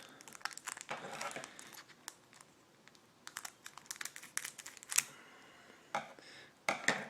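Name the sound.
crinkling plastic wrapping of a Magic: The Gathering booster pack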